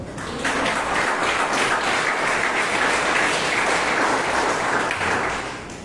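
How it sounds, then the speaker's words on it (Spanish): Congregation at a theological school session applauding for the Holy Spirit, dense sustained applause filling several seconds before fading at the end. "Denle un aplauso al Espíritu Santo."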